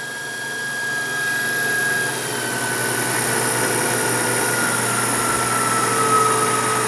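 A Victor 9x49 EVS milling machine with its spindle turned up to about 4,000 to 4,500 RPM, giving a steady, loud, even mechanical whir with a thin high whine running throughout and no speech.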